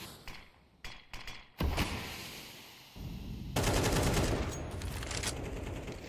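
A grenade detonates in a Counter-Strike match as a loud, broad blast that then trails off, with sharp gunshot-like thumps before it and another dense burst of gunfire near the end.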